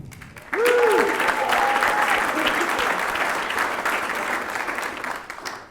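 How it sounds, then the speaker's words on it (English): A comedy show audience breaks into applause after a brief moment of quiet, with loud, dense clapping that holds for several seconds before gradually easing off. "So one more round of applause for Jason"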